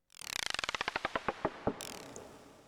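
Serum synth clock effect with shortened release: rapid clicking ticks that slow and thin out over a couple of seconds, leaving a fading noisy tail and a faint high tone, with no voice.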